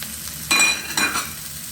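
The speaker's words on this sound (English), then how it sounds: "Next, I'm going to add my courgettes, my carrots," Courgettes, carrots and red peppers drop into a hot pan and fry, with a steady background sizzle and two louder bursts of crackling as the vegetables hit the oil.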